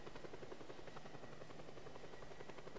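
A helicopter closes in inside the open-world game Just Cause 2, its steady rotor chop and engine drone filling the whole stretch continuously and loudly, with no speech over it.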